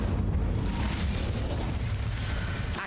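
A fire spell cast in the Hogwarts Legacy video game: a dense, loud whooshing burst of flame that roars steadily for about three seconds with no talk over it.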